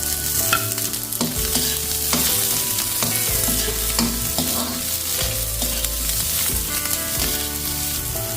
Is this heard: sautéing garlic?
yes